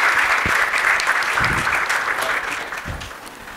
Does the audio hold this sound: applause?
yes